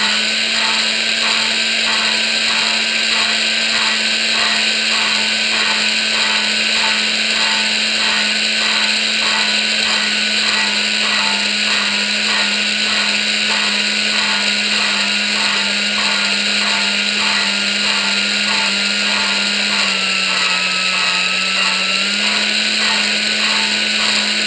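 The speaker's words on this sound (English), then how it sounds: "You want to be rotating and applying pressure alternately to get the grinding motion" A power drill spins a lapping tool against engine valves, working in alternating directions under pressure: a steady, close motor whine with a fast rhythmic pulsing grind that runs unbroken for the whole stretch, with no talking.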